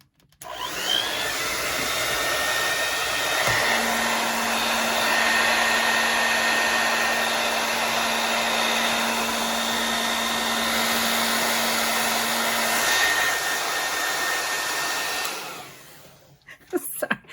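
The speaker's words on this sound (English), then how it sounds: "I'm going to lift it up and I'm going to blow dry immediately." A hair dryer blows steadily and loudly over wet alcohol ink artwork for about fifteen seconds, with a faint tonal hum in its roar, then cuts off near the end.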